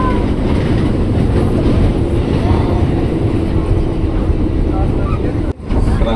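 A commuter train arriving at Jurangmangu station rumbles loudly and steadily, wheels rolling with a constant roar, briefly cutting out near the end; a platform announcement can be heard faintly under it.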